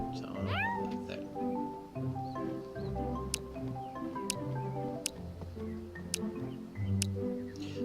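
A pet cat in the Staxel farming video game gives a short meow early on, set over steady game music with repeated chime-like tones.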